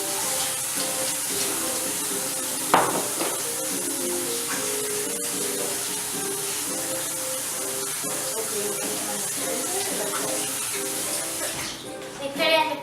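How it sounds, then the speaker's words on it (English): Hands washed under a running kitchen tap during homemade banana pudding prep, a steady close hiss of water spraying over a basin for the whole stretch, with a brief splash near the start and light talk in the background. "Gotta wash my hands."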